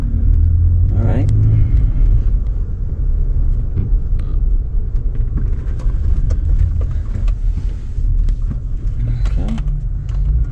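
A car pulls a 600 lb motorcycle carrier through a parking garage with jerky stop-and-go driving. A loud, low engine and road rumble fills the enclosed space while a person talks over it.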